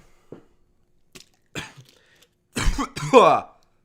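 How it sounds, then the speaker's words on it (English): A few harsh coughs and throat-clearing sounds, close and loud, bunched together after a couple of softer short noises; no speech. "Sorry, my cough came back."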